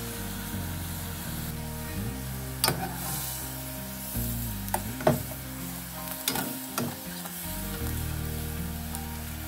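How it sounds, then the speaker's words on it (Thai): Bubbling, sizzling water boiling on the stove with honeycomb added to it, a few sharp clinks and knocks of utensils breaking through the steady hiss. "น้ำเดือดแล้วค่ะใส่ลงไปเล"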